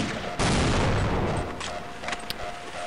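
Gunfire at a robot in the video game Half-Life Opposing Force: a loud, sudden burst of shots that fades into a rattling tail, followed by a few smaller, sharp impacts and clanks.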